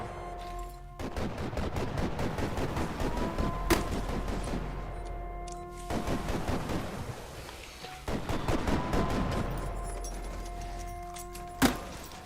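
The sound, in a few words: machine gun fire in a video game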